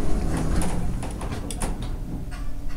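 An Otis hydraulic elevator door at a hotel slides along with a rough, grinding mechanical rumble and a few sharp clicks and knocks, close and continuous for a few seconds.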